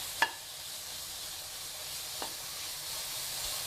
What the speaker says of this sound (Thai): เอามารวนให้หมูสามชั้นมันมีความตึง ๆนี่ไง เอามารวนแบบนี้ก่อนนะ